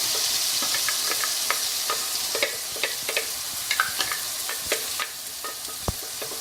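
Spinach puree hits frying spices in a pan and is stirred through, making a constant sizzling hiss with a run of light spoon taps and scrapes scattered across it, close and fairly loud.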